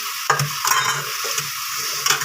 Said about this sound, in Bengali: এটা ভাজা করবো, কাঁচকলা ভাজা।